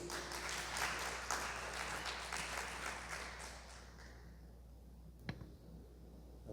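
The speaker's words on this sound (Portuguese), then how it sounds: "Aplauda Jesus" Faint applause from a church congregation patters for about four seconds over a low hum, then fades out, leaving quiet room tone and a single soft knock.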